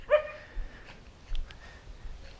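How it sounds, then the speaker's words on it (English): A large dog barks once, a short sharp bark at moderate distance, followed by faint, scattered softer sounds in a quiet setting. "Well, there's a lot of dogs here."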